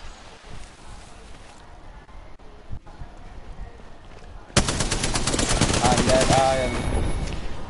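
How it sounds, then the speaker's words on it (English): Rapid gunfire in the Fortnite video game, a dense sustained burst of shots filling the latter half after quieter game sounds and isolated pops earlier. "And I shot the decoy"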